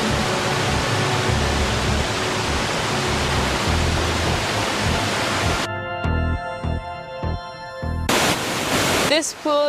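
Steady broadband rushing of a waterfall for several seconds, then it cuts to quieter, choppier sounds with tonal bits and brief bursts.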